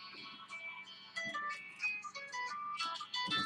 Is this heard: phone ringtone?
yes